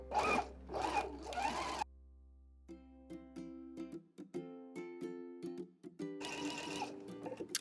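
A sewing machine with a clear open foot stitches a quarter-inch seam from the underarm of a garment, in several short bursts of fast mechanical whirring, each starting and stopping sharply with pauses between runs. There is no talk.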